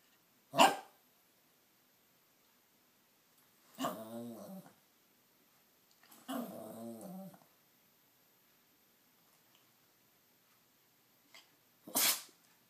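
A dog sneezes in short sharp bursts, four separate sneezes spaced across several seconds, close and fairly loud against a quiet room with no talking.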